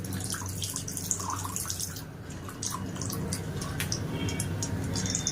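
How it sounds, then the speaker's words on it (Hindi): Coconut oil pours into a pan as a hair-oil remedy is prepared, giving a continuous close trickling and dripping sound, fairly loud, with no one speaking. "ये मैं डाल रही हूं इसमें कोकोनट ऑयल।"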